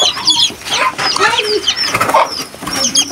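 A hen and her chicks cluck and peep close by in a rural yard, with busy, overlapping calls and brief scuffles filling the whole stretch.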